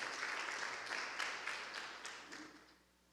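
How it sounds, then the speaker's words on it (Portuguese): A church congregation at a Sunday morning celebration service applauds in a soft, distant patter of clapping that fades away over about three seconds. "Aplauda o Senhor pela vida delas."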